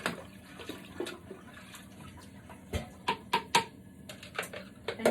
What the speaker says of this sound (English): I'm going to rinse it and rinse the brush.